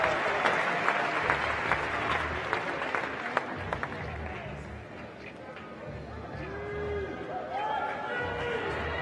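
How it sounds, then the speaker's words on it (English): Crowd applause at the 2018 CrossFit Games awards ceremony for the top three teams, a steady wash of clapping with scattered cheers and crowd chatter throughout, loud and sustained across the whole stretch. "A big round of applause for our 1, 2, and 3 OC3 Invictus X and CrossFit"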